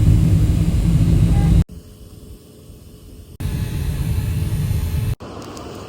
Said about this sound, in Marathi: विमानतळावर पोहोचलेलो आहे.